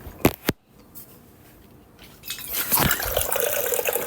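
A couple of sharp clicks, a brief quiet pause, then water from a Zero Water filter pitcher starts pouring steadily into a cup, building to a continuous splashing stream.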